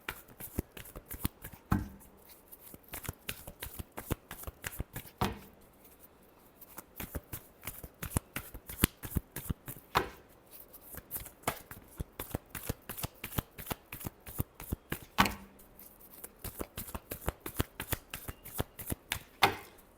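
Tarot cards are shuffled by hand in a steady series of crisp riffling bursts and taps, close and fairly loud, repeating for the whole stretch with brief gaps between shuffles.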